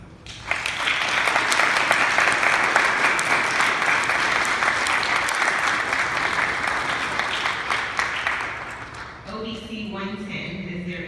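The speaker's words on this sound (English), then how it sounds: "Please give these officers a round of applause." A large crowd gives a sustained round of applause for newly commissioned Commission Corps officers at a formal ceremony, dense loud clapping lasting several seconds before tapering off as a voice begins speaking.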